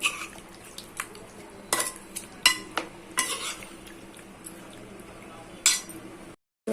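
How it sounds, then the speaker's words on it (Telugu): Country chicken (naatukodi) curry being stirred in a pan, with sharp metallic clinks and scrapes of a spoon against the pot over a faint sizzle, irregular and close, ending in a brief silence. "కర్రీ మొత్తం మనం బాగా కలిపేయాలి, మసాలా మొత్తం దానికి అంటేటట్టు"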